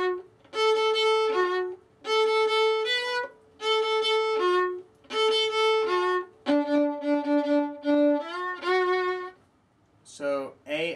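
Solo violin playing the bridge of a song: a close, bright melody of repeated sustained notes in short phrases with brief rests, ending with a few quick sliding notes.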